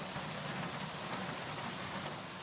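Steady, dense rain falls continuously, a broad hiss of drops on surfaces at an even, fairly soft level with no voices.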